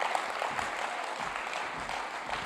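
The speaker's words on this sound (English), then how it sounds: "Please, a round of applause." Steady applause from a conference audience in Africa, a dense, continuous wash of many hands clapping at moderate, fairly distant level, with no talk over it.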